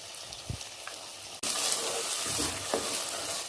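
Ground gravy paste hits hot oil in a kadai with onion and capsicum for kadai paneer, bursting into a loud, steady broadband sizzle after a quieter start with a few clinks.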